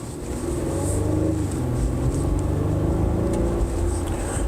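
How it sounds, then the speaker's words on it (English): A steady V6 engine exhaust drone from a three-row SUV cruising, with mild rises in revs and road noise underneath, no voices. "Exhaust does sound pretty good for a V6."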